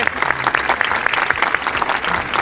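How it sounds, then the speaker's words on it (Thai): A group of about 40 students claps loudly and steadily, dense applause filling the short stretch near and close, with no talk over it. "น้องๆทั้ง 40 คนที่ปรบมือเสียงดันสนั่นบันไหวนะครับ"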